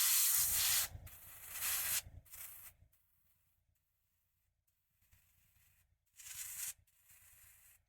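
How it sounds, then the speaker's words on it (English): An airbrush sprays paint onto miniature terrain dense with tiny sculpted plants, giving soft close hissing bursts in the first three seconds, then near silence, then another short hiss after six seconds. "this is the reason why I'm using the airbrush for this particularly"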